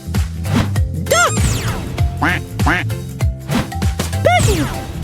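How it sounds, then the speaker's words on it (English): Cartoon duck quacking in an animated kids' production, several loud nasal quacks spread across the clip in an uneven rhythm over a bouncy musical backing. "Duck."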